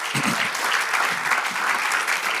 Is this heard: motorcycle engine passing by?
no